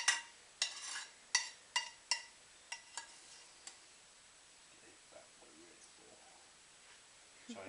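Metal pan knocked about on a kitchen stovetop while cooking runzas, a run of sharp clanks and taps in the first few seconds, fading to a few lighter knocks and then quiet.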